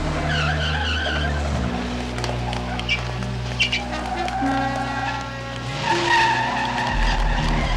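A very fast car, said to reach 220 in 10 seconds, speeds off with tires skidding and squealing. The loud, close engine and tire noise runs over steady background music.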